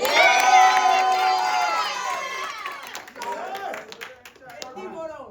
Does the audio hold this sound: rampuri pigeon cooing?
no